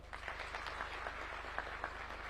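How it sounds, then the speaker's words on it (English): Another round of applause at a National Defence University graduation ceremony, fairly faint, scattered claps over a steady low hum, brief and distant-sounding. "One more round of applause"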